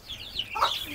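Young chicks give a few short, high cheeping clucks at close range as they are caught and placed into a cage, brief calls over faint background noise.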